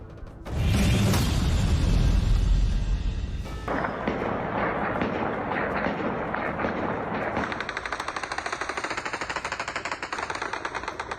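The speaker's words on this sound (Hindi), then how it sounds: "तालिबान ने आतिशबाजी और हवाई फायरिंग कर इसका जश्न मनाया" Loud celebratory AK-47 gunfire and fireworks crackle in a dense, continuous barrage, opening with a heavy roaring burst and then settling into rapid, rhythmic rattling volleys.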